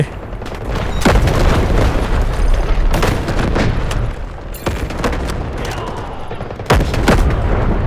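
Rapid gunfire in the mobile shooter Delta Force Mobile crackles continuously with several heavy booming blasts punching through, loud and dense throughout.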